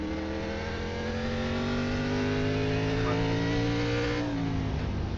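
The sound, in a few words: race car engine revving after downshift into first gear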